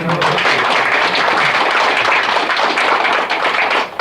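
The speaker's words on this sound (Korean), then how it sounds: "그래서 박수 한번 크게 또 보내주셨으면" A crowd applauds continuously, dense clapping filling the room at a steady, loud level for several seconds, at a talk on North Korean human rights.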